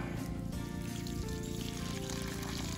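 Irrigation water pours steadily from a hose into watermelon rows to flood them during a drought, a continuous rushing trickle with a low steady hum underneath, unbroken for the whole stretch.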